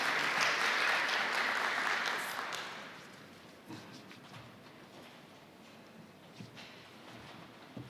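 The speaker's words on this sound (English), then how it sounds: "Another round hand of applause" Applause from the audience at a provincial anti-substance abuse forum launch, a broad wash of clapping for about three seconds that then fades into quieter room noise and scattered sounds.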